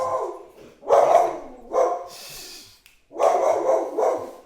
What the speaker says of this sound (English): She's about to start barking.